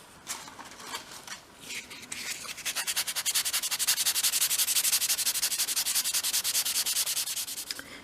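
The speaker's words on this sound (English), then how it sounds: "actually let me just sand that a little bit" A small dolls house craft piece for an attic craft room is sanded by hand: a few scattered rubs, then a fast, even run of rasping back-and-forth strokes, close and alone.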